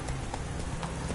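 Horse hooves gallop in The Witcher 3 video game, a fast, rhythmic clip-clop of repeated hoofbeats heard briefly at moderate loudness over a dense game background.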